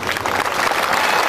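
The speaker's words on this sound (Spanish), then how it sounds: "El aplauso para el maestro Carlos Vargas." Audience clapping for a watercolour master at a ceremony in Ajalpan, a dense, loud burst of applause filling the short moment.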